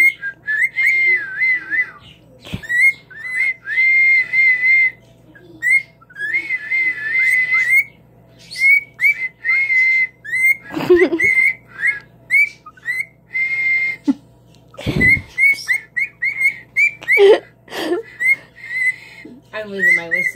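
A person whistles a repeated melodic phrase in short bursts over twenty seconds, close and loud, with brief pauses, occasional knocks and some talking mixed in.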